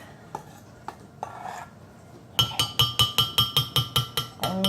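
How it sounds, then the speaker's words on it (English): A mug of poutine mug cake batter is tapped and shaken on a counter. A few sparse knocks give way to a rapid, even series of about a dozen sharp ceramic taps, close and clear. "give it a good little tap and shake because you want to get all the batter nice and flat down at the bottom."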